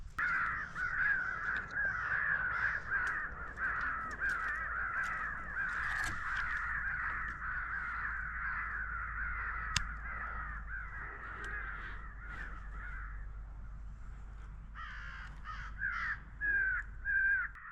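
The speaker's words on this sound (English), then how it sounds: "We're gonna try shooting some crows." A flock of crows caws again and again across a field, their harsh calls faint and somewhat distant, with no people talking.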